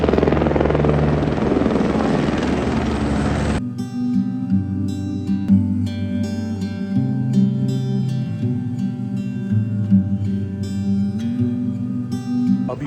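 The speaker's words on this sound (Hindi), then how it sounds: "अभी बस हेलीकॉप्टर से उतरा और अब भवन की ओर जा रहा हूँ।" Loud helicopter rotor noise fills the first few seconds after landing on a Vaishno Devi trip, then cuts to a steadier mix of tonal sounds and scattered clicks.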